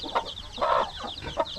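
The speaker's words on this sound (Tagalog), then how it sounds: "Meron pang mga sisiw dito." Chicks and chickens on a free-range farm peep and cluck close by in short, bright calls, with a few louder bursts over a quiet background.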